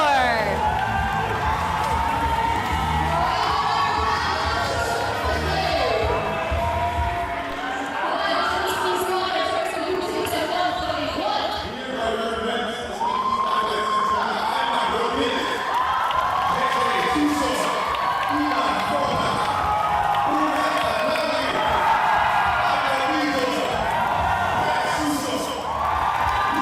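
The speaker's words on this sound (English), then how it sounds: "The energy of the crowd. I know, the crowd is electric." Large indoor crowd cheering, whooping and shouting continuously as elite men's lead climbing finalists walk out at a national championship in the Philippines, loud and sustained with a steady roar and scattered high shouts throughout.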